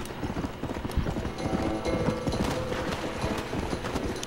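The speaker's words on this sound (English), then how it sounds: "Shut up, horse. Please." Horse hooves clip-clopping in the Red Dead Redemption video game, a steady rapid rhythm of hoofbeats close by, continuous throughout with no talk.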